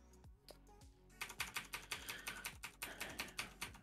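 Arrow keys on a computer keyboard are pressed in a quick run of crisp, evenly spaced taps after a few scattered clicks, close and fairly soft.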